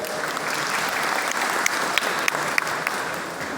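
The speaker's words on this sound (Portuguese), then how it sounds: "Um aplauso aí pro pessoal." Audience applause at a beekeeping lecture, a steady sustained clapping from a crowd filling the room at moderate volume, with a few sharper individual claps standing out.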